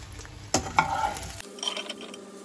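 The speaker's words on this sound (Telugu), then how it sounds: "ఎగ్స్ అయితే వేగిపోయింది, తీసేస్తున్నాం" Fried eggs are lifted out of hot oil in a pan, with a soft sizzle under a couple of sharp scraping knocks of a utensil against the pan before the frying quiets.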